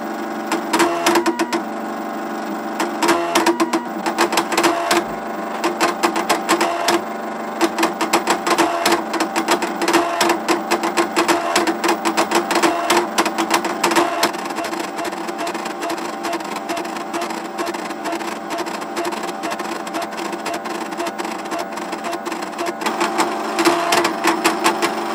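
A homemade 25 mW UV laser engraver driven by an Arduino moves its stepper motors while engraving a PCB, giving a steady stream of fast, close mechanical buzzing and clicking that runs on throughout.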